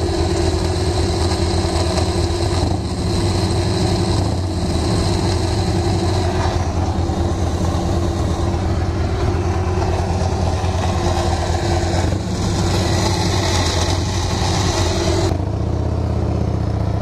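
A Harley-Davidson motorcycle engine idles steadily up close, a loud, continuous low rumble that holds without pause for the whole stretch.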